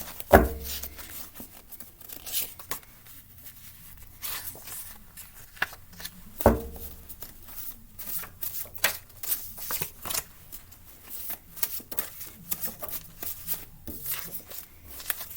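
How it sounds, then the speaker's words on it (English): Tarot cards riffled and shuffled by hand, quick papery flutters and soft slaps repeating close by, with a couple of sharper knocks along the way. "Let me give this a quick shuffle."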